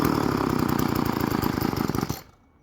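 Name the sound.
Stihl FS 36 string trimmer engine starting and idling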